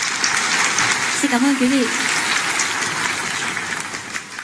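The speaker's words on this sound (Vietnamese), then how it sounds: "Một lần nữa chúng ta hãy cùng dành một tràng vỗ tay thật lớn được không ạ?" Sustained applause from a concert audience after a modern dance troupe's performance, a dense, even roar of clapping throughout while a voice speaks briefly over it.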